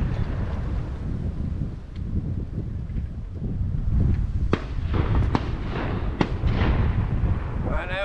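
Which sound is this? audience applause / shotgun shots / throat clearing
shotgun shots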